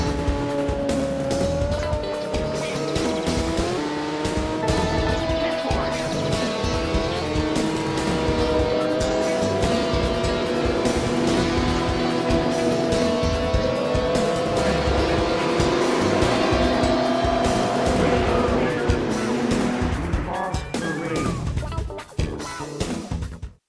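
Motorbike racing on a single track in a PlayStation demo: a steady, loud engine whine rising and falling in pitch as the bike accelerates and shifts, with synth music underneath, cutting off abruptly near the end.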